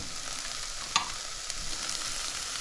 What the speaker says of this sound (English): Let this fry for a little bit until all the flavors are mixed in